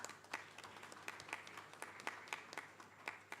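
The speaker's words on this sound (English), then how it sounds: "give him a round of applause" Audience at a gender and inclusion summit applauding a guest joining virtually, a sparse, quiet round of individual claps at an uneven rhythm, heard from a distance in a large room.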